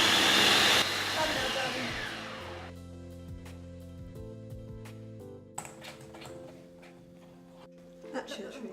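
Kenwood kitchen machine whizzing strawberries with sugar for a cheesecake topping, a loud whirring blend that starts strongly and then settles into a steadier motor drone, with voices talking over it.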